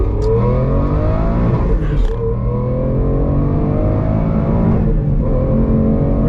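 An Aston Martin engine with its exhaust valves held open revs loudly and continuously at close range, a deep, harmonic-rich roar that climbs and falls with several throttle blips and no talk over it.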